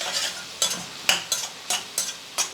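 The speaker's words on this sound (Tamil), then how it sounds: "நல்லா இதை வந்து வதக்கிக்கலாம்" Onion and tomato sautéing in a pan, with a soft sizzle under a series of distinct scraping strokes of a spoon stirring at a roughly regular pace.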